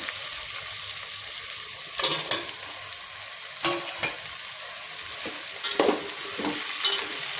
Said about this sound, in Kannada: ತರಕಾರಿಗಳು ಸ್ವಲ್ಪ ಬೆಂದಿದೆ. ಇದಕ್ಕೆ ಮಶ್ರೂಮ್ನ ಹಾಕ್ಕೊತಿದ್ದೀನಿ.